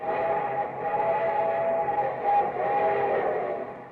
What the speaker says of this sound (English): here comes our star-studded show train